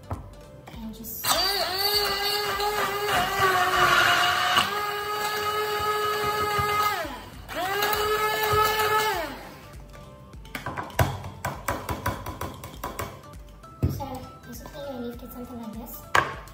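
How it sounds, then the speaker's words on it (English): A hand blender whirring through pumpkin bread batter, a loud steady motor whine in two long bursts with a short pause between, followed by clinking and tapping against the bowl. "Then now we're going to take my hand blender"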